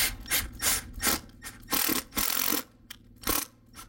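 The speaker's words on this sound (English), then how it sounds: "And I will temporarily put the screw in." A screw is driven into an RV roof during a PVC membrane install, giving short bursts of ratcheting, grinding turns separated by brief pauses, close and fairly quiet with no talk.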